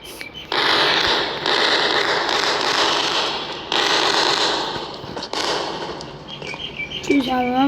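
Firecrackers burst in a continuous crackling barrage, loud and close, with short pauses between volleys and a brief whistling, tonal squeal near the end.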